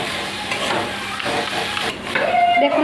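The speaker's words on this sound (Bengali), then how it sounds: "শাকটাকে ভালো করে নাড়িয়ে চেড়িয়ে" Leafy greens with peanuts frying in a pan while being stirred: steady close sizzle and hiss with soft scraping of the utensil throughout.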